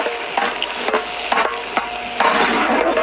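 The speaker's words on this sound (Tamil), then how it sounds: "நறுக்கின வெங்காயம்," Chopped onions frying in a pan of cold-pressed coconut oil and cow ghee with cinnamon, cloves and cardamom, a steady close sizzle broken by repeated scraping stirs of a spoon.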